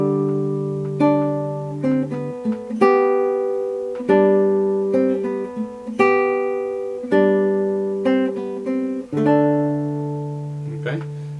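The A section of a theme played slowly on an instrument: a series of separate sustained chords and notes, each struck and left to decay, in a slow steady rhythm, clear and alone.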